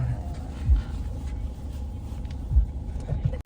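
Car engine at a JDM-only car meet, a low rumble idling nearby with a couple of deeper thumps, quiet and steady under faint background chatter.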